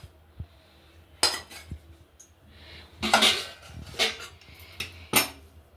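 Cabbage cooked in mustard and poppy seed paste, Bengali style, being tipped out of a pan, heard as several bright metallic scrapes and clanks of utensil against cookware, close by, separated by brief quiet gaps.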